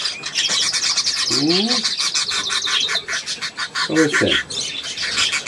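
A pet budgerigar chatters and chirps steadily in close, rapid warbling trills, heard throughout while a person speaks softly to it.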